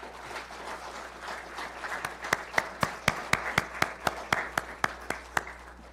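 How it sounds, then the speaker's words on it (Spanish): A crowd applauds, the scattered clapping settling into a steady, evenly timed rhythm of loud claps that fades out near the end. "¿Quiere por favor recibirlo con un buen aplauso?"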